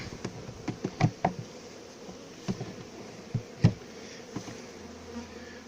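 Bees buzz steadily inside a nuc hive being prepared for winter, a close, continuous hum broken by several sharp knocks and taps of frames being handled.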